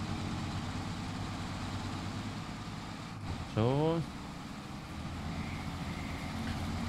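A truck engine drives on in Farming Simulator 22, a steady low drone running throughout, with a brief rising tonal sweep partway through and someone talking over it.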